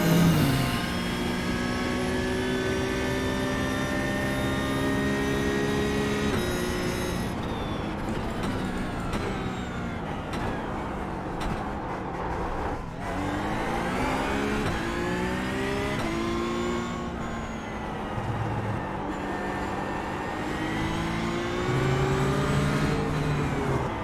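Porsche 992 GT3 Cup race engine howling through a lap of the Nürburgring Sprint circuit in iRacing, steady loud revs rising and falling through gear changes with no talk.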